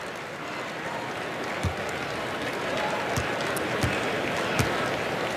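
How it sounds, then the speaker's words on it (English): A college basketball crowd at a Marquette versus Creighton game gives steady, modest applause that fills the arena as a continuous wash of clapping and murmur, with a few dull ball bounces thudding through it. "And McDermott, not much of a round of applause, but certainly deserved it."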